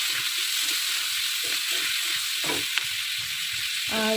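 Leftover rice being fried in a pan with chilli, a steady close sizzle and hiss running throughout, with faint scattered clinks and a soft voice now and then.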